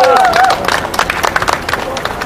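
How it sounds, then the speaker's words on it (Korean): Rally crowd clapping to welcome a speaker at an outdoor candlelight protest against the Korea–US FTA, scattered claps building into broad applause with crowd noise. "큰 박수로 모시겠습니다."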